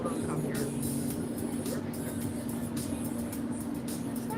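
Cars and heavier vehicles pass on a busy road in a rural area, a steady rumbling wash of traffic with a low engine hum and occasional hissing swooshes, while people talk nearby.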